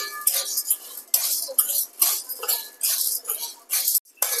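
Chana dal and urad dal roast in a spoonful of oil in a pan, with bright scraping and clinking of a metal spoon against the pan in irregular bursts, close and clear.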